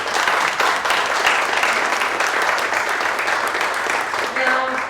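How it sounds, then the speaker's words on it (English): Sustained applause from an audience thanking the panellists and speakers at an electric vehicle expo industry talk, dense steady clapping filling the room for several seconds, with a few voices mixed in near the end. "so we give them a big clap"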